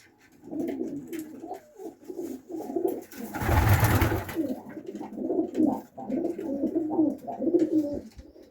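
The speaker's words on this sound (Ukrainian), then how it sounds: "Ну, ось такі, коротше, голубки." Pigeons cooing in steady repeated rounds in a loft's racing section, close and continuous, with a brief burst of rustling or flapping partway through.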